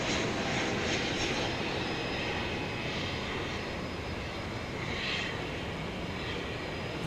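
A Beechcraft S-35 Bonanza single-engine plane at DFW airport at night, a steady broadband engine drone holding loud and continuous with no voices.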